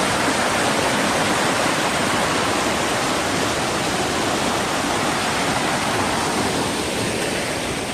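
Fast-flowing water pours steadily at Marottichal waterfall in Thrissur, Kerala, a loud, dense, unbroken rushing roar filling the whole stretch with no voices.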